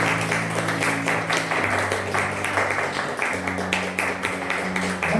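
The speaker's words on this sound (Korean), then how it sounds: "뜨거운 박수 보내주시기 바랍니다." A church congregation at a Sunday service applauds warmly to welcome first-time visitors, dense sustained clapping with a low background tone underneath.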